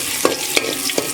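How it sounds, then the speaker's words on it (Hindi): Sliced onions frying in hot oil for chicken yakhni, a steady sizzle broken by three short clattering stirs spaced evenly through the second, close and clear with no talking. "आप देख रहे हैं ऑयल गर्म है और इसमें यहाँ पे मैं प्याज डाल के शामिल कर रही हूँ।"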